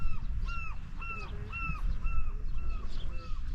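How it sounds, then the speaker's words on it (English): Gulls calling by the ocean on a morning boat trip in Mexico: a series of repeated bright, falling cries in a steady rhythm at moderate distance over a low wash of wind and water. "Oh, the seagulls."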